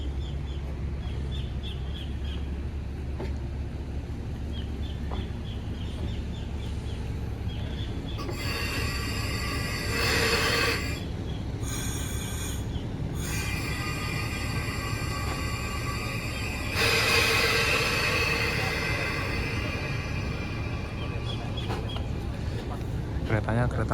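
An executive-class railway carriage creaks and rolls slowly along the track while being shunted in Indonesia, with intermittent metallic screeching and clanking, moderately distant, amid faint background ambience and occasional birds.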